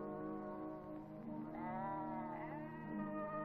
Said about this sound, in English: the goat herds which roam